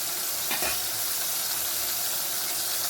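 Tomatoes with a little salt sauté in a pan for bitter gourd curry, giving a steady, bright sizzle and hiss. A brief stirring scrape breaks in near the start, and no one speaks.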